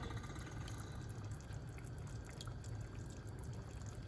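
Warm water poured into a pot of Jamaican curry chicken makes a steady, continuous splashing trickle that runs through without a break.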